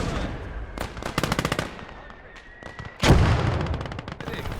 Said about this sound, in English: The vehicle had a dorsal mounted MG34 and would provide a good deal of fire support for the men going